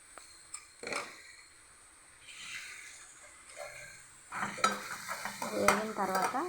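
Curry leaves fry in oil, starting quiet with faint crackles and a few utensil taps, then sizzling and spattering grow louder and busier toward the end.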